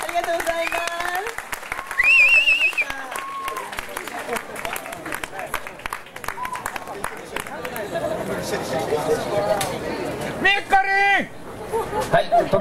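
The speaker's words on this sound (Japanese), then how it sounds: "もう一度大きな拍手をお願いします。" A crowd claps at the Yaramaika Music Fes 2011 in Japan after a stage performance. The applause is mixed with lively voices and sung or shouted calls throughout, and the clapping swells and fades unevenly.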